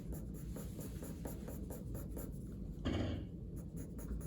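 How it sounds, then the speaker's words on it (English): Rapid, evenly repeated pencil strokes scratch across paper while hatching from light to dark, close and crisp, with a brief heavier scrape partway through and no talking. "is doing the hatching, going from the light to the dark, okay, just like that."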